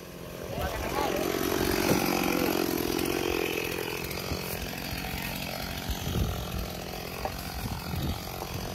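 A Stihl MS 260 chainsaw engine drones steadily, rising then settling, with a voice speaking Vietnamese over it.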